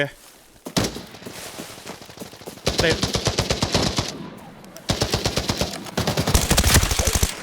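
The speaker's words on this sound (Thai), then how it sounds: "เสียงปืนเก็บเสียงจากด้านนู้น มีคนยิงบอดครับ" Rapid bursts of automatic gunfire from a shooting video game rattle in quick rhythmic volleys, growing louder in the second half, with a voice talking over them, including mention of silenced gunfire.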